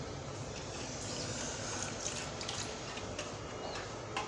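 Water poured into a vinegar and spice mixture for a fish fry marinade, a steady, soft wash of liquid sound with no voices.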